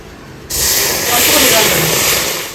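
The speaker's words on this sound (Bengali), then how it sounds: "তো সুজিটাকে একটু ভেজে নিয়েছি, এর মধ্যে একটু জল দিয়ে দেবো।" Water is poured onto hot, freshly roasted semolina and bursts into a loud, close hiss that starts suddenly and sizzles steadily for about two seconds before easing off slightly.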